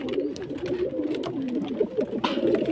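Domestic pigeons coo in a loft, among them an old red pigeon with newly hatched chicks; a steady, low, murmuring cooing runs throughout at moderate loudness, with no voices.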